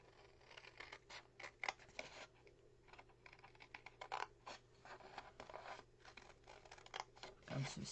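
Scissors snip through a paper rectangle, cutting along both sides in quick, crisp, close-up clicks and scrapes that come in a steady irregular series.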